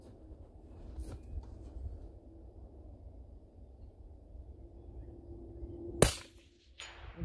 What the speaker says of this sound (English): Let's go ahead and shoot some more.